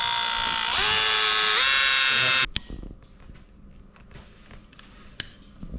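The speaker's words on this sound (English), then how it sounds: "We got to drill this thing out" A high, steady drill whine runs close and loud for a couple of seconds with pitch shifts while drilling out a carburetor fuel mixture screw plug, then cuts out, leaving quieter clicks and handling noise.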